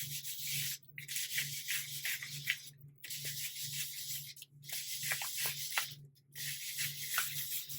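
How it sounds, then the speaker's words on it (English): Texture material rubbed hard onto a journal cover, a steady, close scratchy rubbing in long strokes broken by short pauses, with a faint low hum underneath and no talking. "I am rubbing harder now just to get some of this in there."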